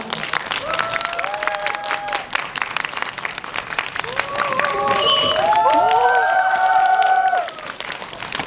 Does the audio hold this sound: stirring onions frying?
no